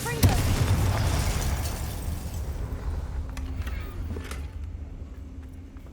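A Confringo spell blast in the Hogwarts Legacy video game: a sudden loud burst at the start that rumbles and slowly fades over several seconds, with faint game sounds trailing after.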